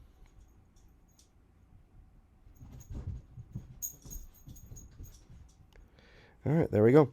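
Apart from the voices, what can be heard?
dog whining in the background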